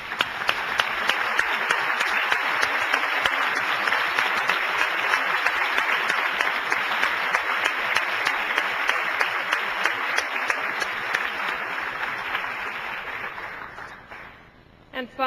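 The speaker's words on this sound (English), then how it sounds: "would you join me in applauding their prodigious efforts?" Sustained, dense audience applause at an evening event about the U.S. Exploring Expedition, holding steady at full strength for over ten seconds before fading out near the end.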